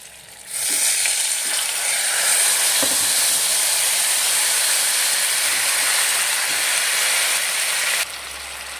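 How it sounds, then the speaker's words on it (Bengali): Green chilies hit hot mustard oil with a sudden loud, hissing sizzle that holds steady and close for several seconds, then drops off abruptly near the end, no one talking over it. "ওই তেলের মধ্যেই কাঁচা লঙ্কা ফোড়ন দিয়ে দিলাম"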